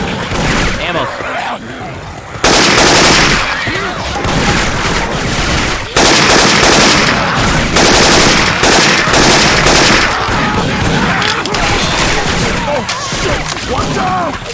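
Syphon Filter weapon sounds replace the usual guns in Left 4 Dead 2: loud bursts of rapid gunfire with shots and booms packed close together, broken by short pauses, with game voices mixed in.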